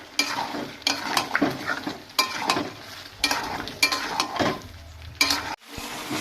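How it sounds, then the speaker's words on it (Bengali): Fried potatoes for Kashmiri dum aloo are stirred and tossed in spiced masala in a pan, giving rhythmic bursts of spatula scraping against metal over a low sizzle, close and moderately quiet. "এবার আমি ভেজে রাখা আলুগুলো ঢেলে দেব। দিয়ে খুব ভালোভাবে কষে নেব।"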